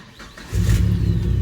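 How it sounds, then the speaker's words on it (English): A Jeep engine, jump-started with a Duracell portable jump starter, cranks briefly and then catches, firing into a loud, steady idle. "we're gonna go try to start up the Jeep"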